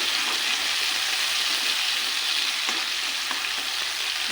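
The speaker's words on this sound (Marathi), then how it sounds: "यामध्ये मी मेथी टाकून घेते हे बघा यामध्ये मेथी टाकून घेतलेली आहे" Fresh fenugreek leaves hitting a hot pan of oil, turmeric and spice paste for a Marathi methi bhaji, giving a loud, continuous sizzle and frying hiss with faint stirring scrapes throughout.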